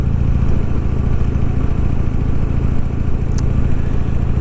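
A motorcycle engine holds a steady, loud, low drone throughout a relaxed cruise ride, with a constant throb and no pauses.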